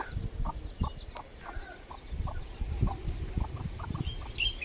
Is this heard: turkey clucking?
yes